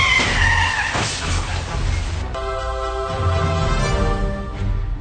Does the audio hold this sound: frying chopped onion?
no